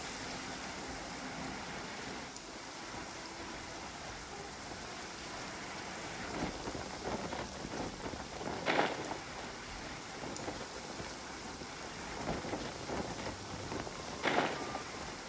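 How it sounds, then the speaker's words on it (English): Steady rain falls in the Genshin Impact game world, a constant dense hiss with occasional louder gusts and faint rumbles of thunder underneath. "Going out on a rainy day is the worst."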